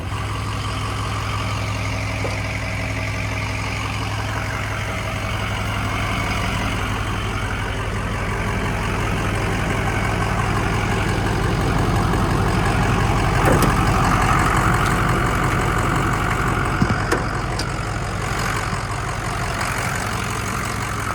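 Lifted 2006 Ford F350 Powerstroke diesel pickup idles steadily with a deep, constant low rumble for about twenty seconds, heard nearby with the hood open and no voices.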